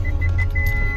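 A car's engine labours with a loud, steady low drone on a hilly rural road, heard from inside the vehicle with faint rattling over it and no voices.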